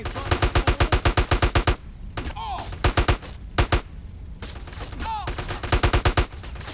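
Enemy gunfire in GTA San Andreas comes in rapid automatic bursts, loud and close, with short pauses between volleys and a few single shots mixed in.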